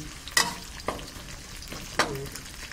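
Curry paste of lemongrass, garlic, kaffir lime and dried chilies frying in oil left over from frying catfish, a close, steady sizzle broken by a few sharp scraping stirs.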